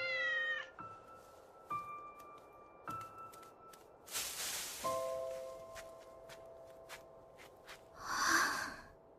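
Several close cat meows in a video game at a relaxed pace, short and long, with soft rustling and bumps between them and a brief breathy sound near the end.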